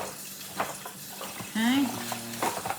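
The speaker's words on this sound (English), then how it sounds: "See, that's why you want a big tub like this, so it's easier to stir." Caramel-coated puff corn is stirred in a big tub, producing soft rustling, crunchy scraping with a few light clicks, while a short voiced sound rises over the stirring midway.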